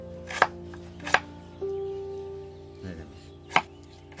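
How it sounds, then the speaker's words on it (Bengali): A knife chops carrot on a board for vegetable chops, a few sharp separate strikes spaced apart with a steady tone and background hum between them, close and clear. "গাজরটা আমি দেখুন কেটে নেব, আগে ধুয়ে নাও, তারপরে কেটে নাও, কুচিয়ে নাও।"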